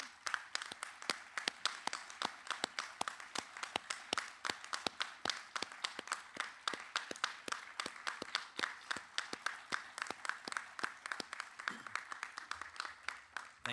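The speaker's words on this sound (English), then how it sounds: "if the guests could please help me recognize them for their efforts with a warm round of applause" Guests at a Boatswain's Mate A School graduation give instructors, advisors and class sponsors a warm round of applause, with brisk, crisp clapping from a fairly small crowd that continues evenly before tapering near the end.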